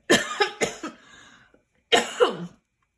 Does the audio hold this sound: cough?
yes